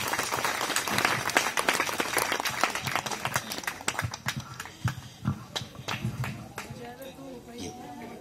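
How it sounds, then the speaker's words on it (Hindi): An audience at a ceremony in Bihar breaks into loud, dense clapping that gradually thins into scattered claps as a voice begins speaking over it. "सर के लिए हम सब दिल से ताली बजाएंगे"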